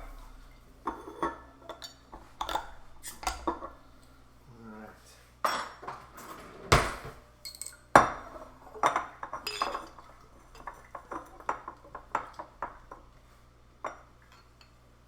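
Glassware clinks and knocks as glasses are set out and handled, scattered sharp chinks and clatters of varying loudness over about fifteen seconds, with brief talk in between.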